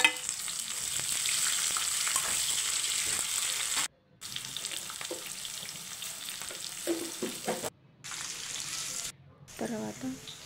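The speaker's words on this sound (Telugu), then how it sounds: "ఇలా ఫ్రై చేసుకున్న తర్వాత అందులోనే మీడియం సైజు ఉల్లిపాయలు కట్ చేసి పెట్టుకున్నాం కదా, అవి కూడా వేసుకొని ఫ్రై చేసుకోవాలి." Bitter gourd and chopped medium-sized onions sizzle steadily in hot oil in a pan, a continuous fry hiss broken by brief pauses and stirring scrapes.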